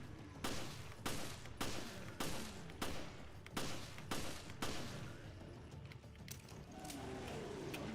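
Gunshots ring out in the video game Resident Evil HD Remaster, eight loud evenly spaced shots about half a second apart, followed by a quieter mechanical rattle and ambient game noise.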